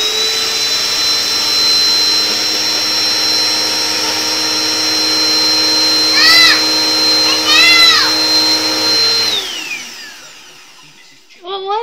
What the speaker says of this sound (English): You playing with the vacuum?